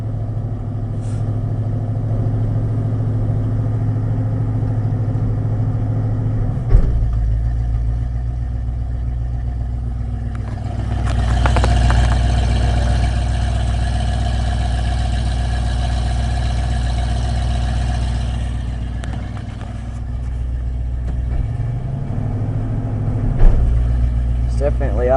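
A Ford car engine runs at a fast, steady idle on a newly fitted carburetor, its low throbbing drone continuous and close throughout, swelling louder and rougher midway with brief knocks and clunks near the start and end.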